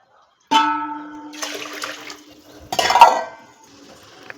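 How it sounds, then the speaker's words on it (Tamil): Water poured into a container of rice before cooking in a pressure cooker, heard as two short, close splashing pours over a faint steady hum in a quiet kitchen. "2 தண்ணி ஊற்றினா தான் சாதம் கரெக்டாக இருக்கும்."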